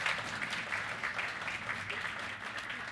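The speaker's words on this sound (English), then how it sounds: "Yes, please give them a round of applause." Audience applause for Kenyan scientists at a World Malaria Day 2022 event, a steady, moderately loud patter of clapping with slight swells, sustained throughout.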